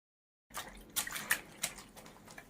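Clothes being washed by hand in water, giving a series of soft splashes and sloshing swishes that start after a brief silence and keep going at close range with no one talking.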